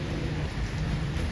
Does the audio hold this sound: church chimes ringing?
no